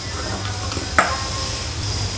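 A cauliflower mixture is stirred with garam masala in a pan over a soft continuous sizzle, with one sharp clack of the utensil against the pan midway and no talking.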